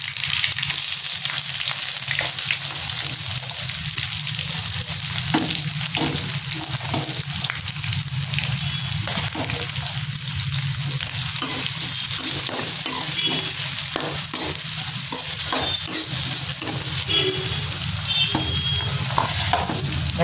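Onions sautéing in a pan for a village-style duck curry, a loud, continuous close-up sizzle with frequent stirring scrapes and clicks throughout.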